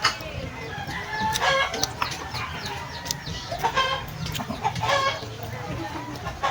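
Chickens cluck steadily while a rooster crows a few times nearby, with some outdoor background noise throughout.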